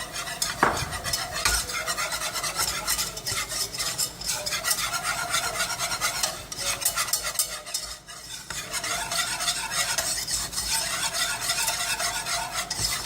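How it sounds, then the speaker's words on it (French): Flour being stirred into melted butter in a pan for a cauliflower gratin sauce, a steady close scraping and rasping of a utensil against the pan over a soft sizzle, with no talk. "Je rajoute juste la farine. Voilà, que je viens remuer."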